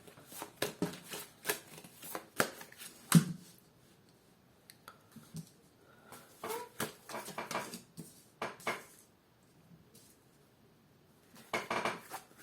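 Large tarot cards are shuffled by hand in short, soft bursts of riffling and flicking, close and quiet, separated by brief pauses.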